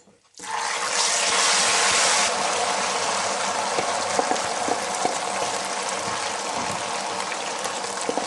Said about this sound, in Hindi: जो सूजी थी वो दूध में मिक्स करके रखी थी, वो डाल देते हैं